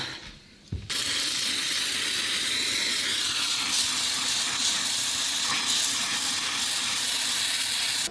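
A Karcher SC5 steam cleaner on a lower setting, working on tiles with limescale: a brief quiet click, then a continuous loud, close hiss of steam that holds steady to the end.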